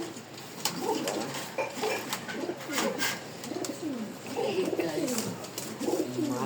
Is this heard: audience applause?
no